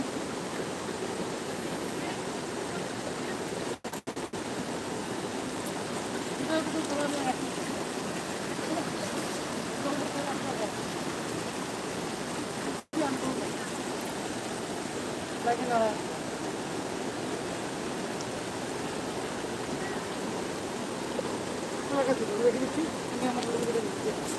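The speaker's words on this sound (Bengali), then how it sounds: "জলের আওয়াজটাই শোনা যাচ্ছে" Flowing water of a stream at a scenic spot on an afternoon, with a steady, moderate rushing wash holding constant throughout, and faint background activity in the distance.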